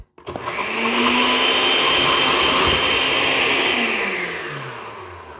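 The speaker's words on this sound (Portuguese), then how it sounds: "a gente vai bater no liquidificador. Um pão de cada vez." A blender grinding bread, one piece at a time, whirs up loudly, grinding steadily at high speed for several seconds, then its pitch slowly drops as it winds down.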